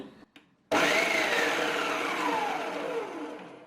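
A Preethi Zodiac mixer grinder starts abruptly after a couple of soft knocks and chops a small cut onion. Its motor gives a loud, steady whir that slowly winds down in pitch over a few seconds.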